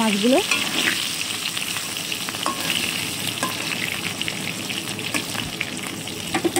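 Magur fish fry in hot oil with a dense, steady crackle and spatter, punctuated by occasional light clinks from a utensil.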